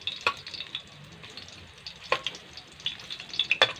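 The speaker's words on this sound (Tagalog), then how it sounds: "hintayin natin maging golden brown yung garlic natin" Garlic fries in a pan for a seafood pancit guisado, giving a soft continuous sizzle broken by sharp crackles and pops, with a few stirring clinks close by.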